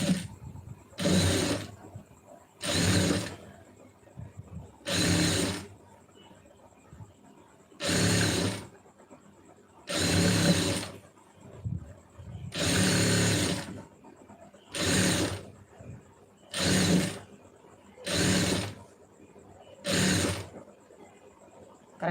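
Sewing machine stitching a lining blouse, running in about ten short, even bursts separated by brief pauses, close and clear with no talk.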